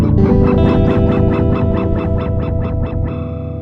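A MOOD effects pedal with its clock dip switch engaged gives a loud, warbling, rhythmically pulsing granular texture, with about a dozen repeated chirpy swells that sound almost like quacking, sustained throughout.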